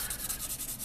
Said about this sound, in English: I'm just sanding this.